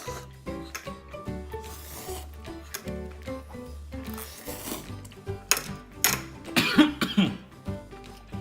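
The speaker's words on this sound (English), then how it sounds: "this makes me cough a lot" A person eating spicy Samyang 2x fire noodles with hot water coughs repeatedly in harsh bursts and clears their throat, close up, among clinks of dishes and cutlery.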